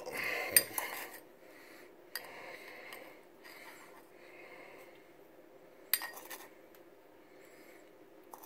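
A metal spoon scoops ground coffee and sugar from a jar while Turkish coffee is made at home, with a few sharp clinks and soft scraping taps spread over several quiet seconds, and no one talking.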